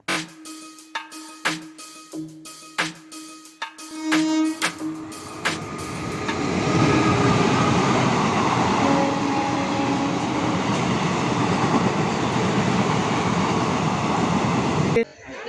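A train rumbles steadily through a station after several sharp clanks and a brief hum, with broad mechanical noise and a faint signal beep near the end.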